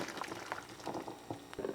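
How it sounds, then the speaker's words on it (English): Hot water is poured through a metal strainer into a serving bowl in a home kitchen, a soft, close splashing and trickling that rises and falls in brief uneven bursts. "I put a strainer over the bowl and I pour that water because we're going to warm that bowl up"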